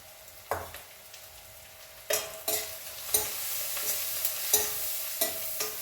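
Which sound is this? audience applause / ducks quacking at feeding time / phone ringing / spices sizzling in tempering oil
spices sizzling in tempering oil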